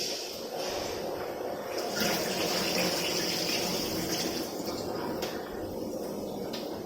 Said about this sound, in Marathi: मी तांदूळ चांगले असं चोळून चोळून मी जरा धुवून घेते